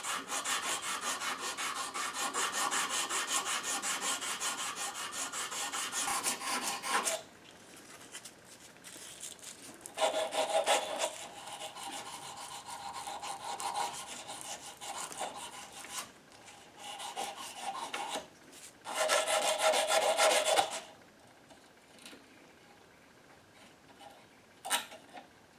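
A plastic pipe is rubbed with 400 grit aluminum oxide abrasive, giving steady, hissing scratchy strokes in long bursts separated by short pauses, close and fairly quiet.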